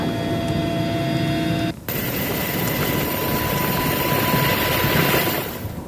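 Aircraft of the Indonesian Air Force fleet, readied for forest and land fire response in Kalimantan, give a steady loud engine roar with a brief dip before continuing, heard alone with no talk.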